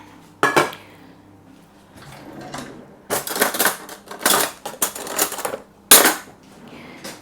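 A pie dish and a portable hob moved around a kitchen counter, several sharp knocks and rattling clatters of metal and ceramic in irregular bursts, close and fairly loud.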